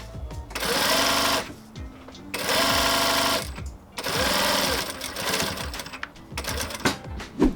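A sewing machine stitches an ultra suede outsole strap for a shoe lacing system in three loud, rapid whirring runs separated by short pauses, with a few softer clicks and handling noises between them.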